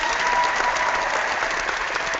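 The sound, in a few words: applause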